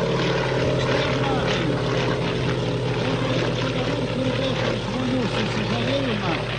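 Propeller aircraft engine drone from the Lituanika replica plane flying over Nida, a steady, sustained hum throughout with a person talking over it.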